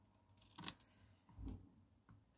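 Scissors trimming paper for a handmade greeting card: two short, quiet snips about a second apart, with a faint third cut at the end, close by and with no talk.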